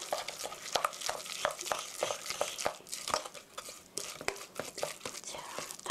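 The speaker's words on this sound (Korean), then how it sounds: "이렇게 고루 섞어서 끈기가 생기게 이렇게 돌려주세요" Sticky ground-meat mixture for meat toast being stirred and worked in a bowl, giving repeated soft squelching, slapping strokes at a steady rhythm, close and moderately loud.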